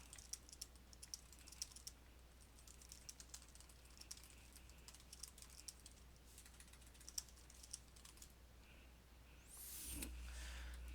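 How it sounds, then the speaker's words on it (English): Typing on a computer keyboard: a steady run of quick, fairly quiet key clicks over about ten seconds, close and alone with no voices, ending in a brief soft rustle. "and type a short description."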